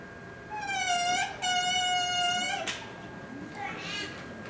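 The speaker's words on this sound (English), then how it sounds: "a reed all by itself doesn't sound much like a bassoon" A bare bassoon double reed, two pieces of cane, blown on its own, giving a thin, buzzy, squawking tone in two short bursts, then a brief voice after it.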